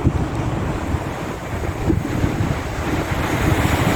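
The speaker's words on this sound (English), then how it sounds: "Big wave. Look how amazing these waves are." Ocean waves wash and rumble steadily against a backdrop of gusting wind buffeting the microphone, with no voices.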